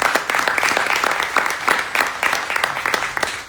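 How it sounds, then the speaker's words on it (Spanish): An audience applauds steadily at the start of a lecture, with dense overlapping claps filling the room at an even level throughout. "Lo recibimos con un muy fuerte aplauso y muchas gracias, Franco, por venir."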